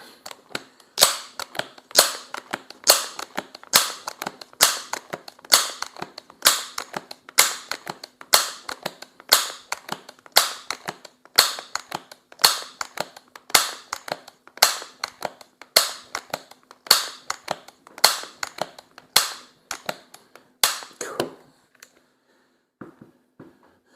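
A Crosman 1300 Medalist .22 multi-pump pneumatic air rifle is pumped again and again, a long run of close, evenly spaced mechanical strokes that stops abruptly and gives way to a few faint clicks.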